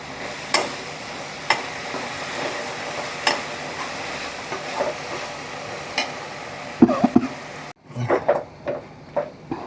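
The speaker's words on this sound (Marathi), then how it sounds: "आता भाजी घालून परतून घेतलं आहे" Ghotvel leafy vegetable seasoned with Malvani roasted masala is stir-fried in a pan, with steady scraping strokes at a regular rhythm over a soft sizzle that swells louder and more crackly near the end.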